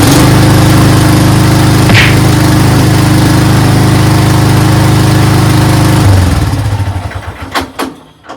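A Craftsman 13.5HP riding mower engine runs at a loud, steady drone, then cuts out and winds down to silence with a few faint clicks near the end.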